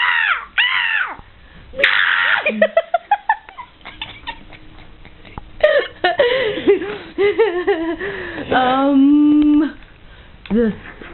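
A human voice imitating a seagull's cries, a series of loud squawks and calls mixed with laughter, close up.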